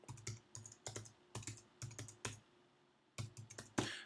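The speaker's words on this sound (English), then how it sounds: "I can go up in here and I can type my name." Keys clatter on a computer keyboard in short quick bursts, close-up and quiet, with brief pauses between groups of strokes.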